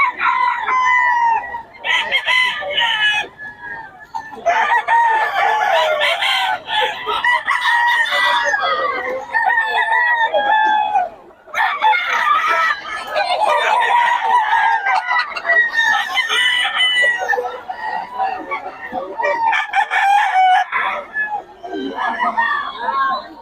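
A White Hatch gamefowl rooster crows loudly and close, with repeated crows and clucks running almost nonstop alongside other fowl, and a voice talking over them.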